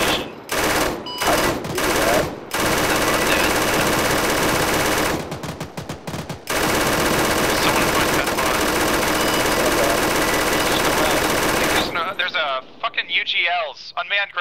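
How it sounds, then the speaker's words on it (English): Sustained automatic gunfire in the military shooter Arma 3, dense bursts of rapid shots that stop briefly, resume for several seconds, then give way to quieter radio chatter at the end. "I'm just shooting at staging area."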